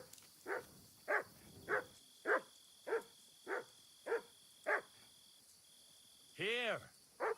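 A dog in the medieval game Kingdom Come Deliverance 2 barks eight times in a steady, evenly spaced series, clear and fairly close over a faint insect-like background hum, then a brief rising whine or call follows near the end.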